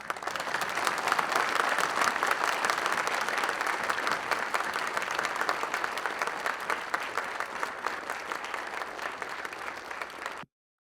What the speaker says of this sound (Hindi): बहुत बढ़िया, आपके लिए तालियां।